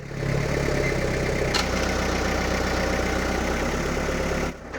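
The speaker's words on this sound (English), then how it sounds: "Our neighbor let us borrow his forklift." A borrowed forklift's engine runs steadily at a low, even idle-like drone, close and continuous, with a brief clunk midway and the engine cutting off near the end, no speech.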